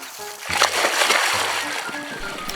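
A pointer dog splashes into water with a burst of close, sloshing splashes that continue churning for a couple of seconds.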